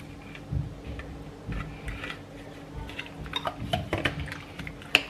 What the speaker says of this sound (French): je vais faire mon petit mélange, ma petite marinade